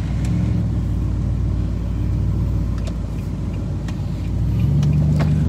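A Nissan Titan pickup truck engine idles steadily with a low, throbbing rumble and slight rises in pitch, close by and continuous with no talking.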